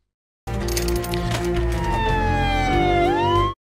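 A loud electronic-sounding ambulance siren in an emergency-response game wails continuously with a falling then rising pitch, layered over a dense steady tone, starting abruptly and cutting off.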